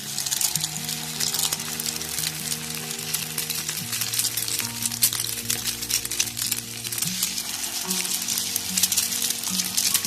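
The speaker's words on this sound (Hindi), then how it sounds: "ये जो हमने कबाब बनाए थे इसको अंडे में डिप करके इसको फ्राई कर देना है।" Egg-dipped kebabs for an anday wala burger fry in a pan with a steady, close crackling sizzle, while a low melodic tone runs underneath throughout.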